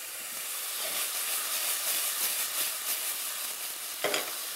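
Onion browning in a pan gives a steady, close sizzling hiss with light crackle. It runs without a break and stays fairly even, and a brief stir or clink comes near the end. No one speaks.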